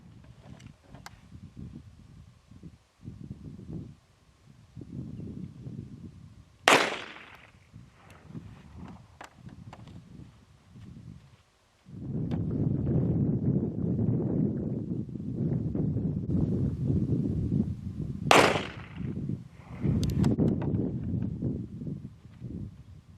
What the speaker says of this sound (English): We will start by shooting the EZ Shield and then the Bodyguard side by side with the exact same 95 grain ball ammo